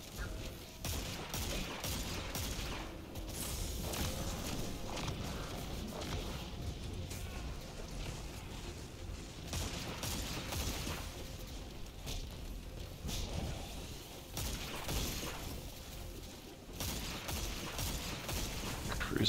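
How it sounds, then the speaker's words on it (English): Nearby explosions and bursts of gunfire crackle in the Destiny 2 dungeon Spire of the Watcher, with rapid fusillades, shattering impacts and mechanical clatter coming in dense, loud waves over a busy combat din. "Oh, explosions near me."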